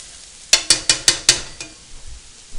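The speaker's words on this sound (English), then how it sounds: "we're going to drop in this fresh garlic and let it start to simmer up real quick" Fresh garlic dropped into hot extra virgin olive oil in a pan: five quick, sharp clinks of a utensil, then a faint, soft sizzle that lingers.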